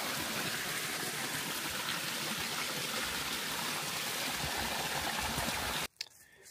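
Mountain spring water pours steadily along the Appalachian Trail, a loud, continuous close-up rush and splash that cuts off abruptly near the end, leaving a brief quieter moment.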